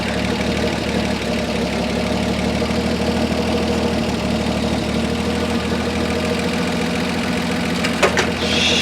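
A 1966 International 1200A pickup truck engine idles steadily up close with its cooling fan whirring, a continuous loud drone with a faint rhythmic knock and a brief clank near the end.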